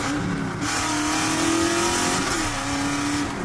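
A truck with an LS1 V8 engine, 145,000 miles on it, and a T56 transmission accelerates hard, its loud, steady engine roar rising and holding close by with no talk over it.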